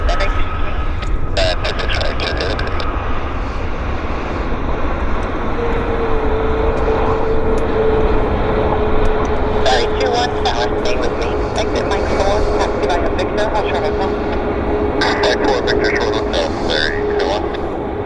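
An airliner flares and lands at Vancouver International Airport, giving a steady, loud engine roar with a sustained rising whine, while voices talk over the noise throughout.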